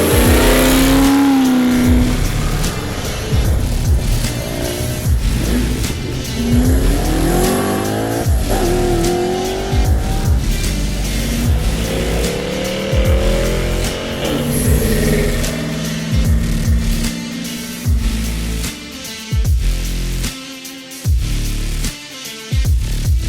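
Hot rod engines rev hard and accelerate while racing other cars on the road toward Las Vegas Motor Speedway, with loud continuous roaring that rises and falls through gear changes and passing traffic.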